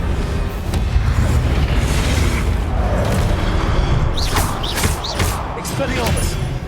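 Booming explosive blasts from the Confringo spell in Hogwarts Legacy, several thuds in a dense rapid sequence over a busy background of combat effects and voices.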